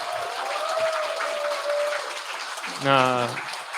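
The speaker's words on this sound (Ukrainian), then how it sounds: "Ну що ж, оплески, оплески." Conference audience applause after a game design talk fills the background under a speaking voice, with a brief rise in noise near the end.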